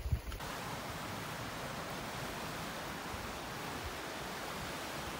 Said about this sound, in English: The water can't just be cutting through there, it's got to be falling.